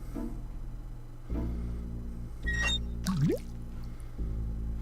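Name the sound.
bucket being filled with water in Day of the Tentacle video game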